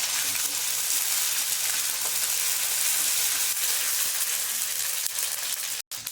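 Prawns frying in a pan with ginger and garlic for jhinge chingri, a dense, loud, steady sizzle that runs almost unbroken and close up, ending with a brief dropout.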